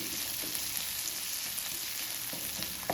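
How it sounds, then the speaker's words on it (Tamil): Onions sizzle steadily in a pan of hot oil while being cooked down for a capsicum gravy, a continuous close frying hiss with a few soft scrapes and no voices. "வெங்காயம் பார்த்தீங்கன்னா கரெக்டாக வதங்கிடுச்சு."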